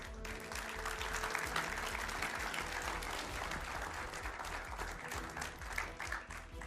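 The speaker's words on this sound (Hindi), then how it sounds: "तो आइए सबसे पहले तालियों के साथ स्वागत करते हैं प्रेम शुक्ला और आलोक शर्मा का।" Studio audience applauding to welcome two guests onto a Hindi TV debate show, steady dense clapping filling the room for several seconds, with low background rumble and music beneath and no one speaking.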